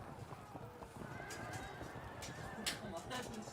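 Horses in a medieval battle in the video game Field of Glory: Medieval, with continuous galloping hoofbeats, neighs and clatter forming a dense, fairly faint background mixed with other battle noise.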